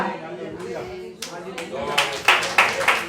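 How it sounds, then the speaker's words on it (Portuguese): A church congregation claps in worship, the irregular hand claps building and growing louder toward the end as a voice speaks over them. "Aplauda ao Senhor com o seu melhor."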